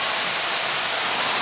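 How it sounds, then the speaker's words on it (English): Waterfall inside a cave in Malibu: a loud, steady rush of falling water fills the space with dense, unbroken hiss, close and constant with no other sounds. "right now we're in a cave with a waterfall in Malibu"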